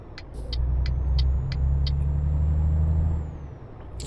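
A heavy truck engine in Euro Truck Simulator rumbles and swells as it accelerates, a low steady drone with a rising whine and a few short hissing pulses over it.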